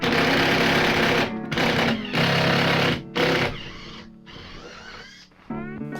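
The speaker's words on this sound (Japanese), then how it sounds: "運転席の真後ろの部分の柱が 2x4 で頑丈なので、ここに同じようにボルトを取り付けていきます。" A power tool drives bolts into a sturdy 2x4 post behind the driver's seat inside a camper, running loud and close in long sustained whirring bursts broken by short pauses, with the pitch shifting between runs.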